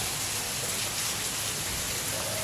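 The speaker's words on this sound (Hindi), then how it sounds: "ये बहुत ही मूसलाधार धुआंधार बारिश शुरू हो गई है" A heavy downpour of rain roars steadily and loudly close by, a thick continuous wash of drops hitting surfaces with no voices over it.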